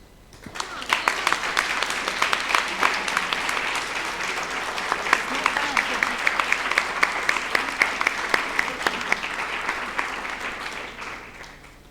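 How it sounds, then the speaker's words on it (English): Conference audience applauds the session contributors with a long round of clapping, many hands in a dense wash with sharper individual claps standing out, swelling and then easing off over about twelve seconds. "get up and receive your applause and thanks"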